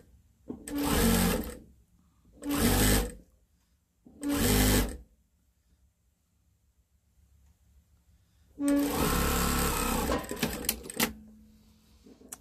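A sewing machine stitches the seam of a memory bear in three short bursts, then one long steady run after a pause, close and clear with no talking over it.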